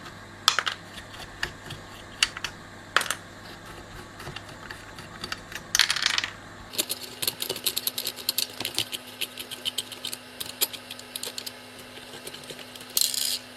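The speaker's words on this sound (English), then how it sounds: "Just unscrew these standoffs. They come off quite nicely." Metal standoffs being unscrewed from a Tom Evans Mastergroove SR mkIII turntable, with a series of close, sharp clicks and small metallic taps, followed by a steady low hum under the handling noise.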